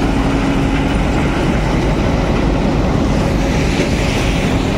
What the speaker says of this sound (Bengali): ব্রিজ থেকে এখন পাথরের গাড়ি ধীরে ধীরে সামনের দিকে এগিয়ে যাচ্ছে